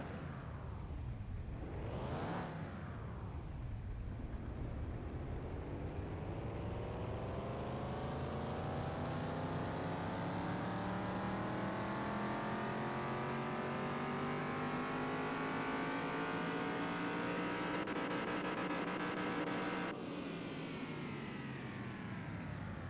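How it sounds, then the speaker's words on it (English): A car's engine revs up on a dynamometer in a shop for a rebuilt, salvaged car, with a quick blip and then a long, loud, steadily rising pull near the mic, its pitch climbing before cutting off sharply. "Let's go ahead and run on the dyno."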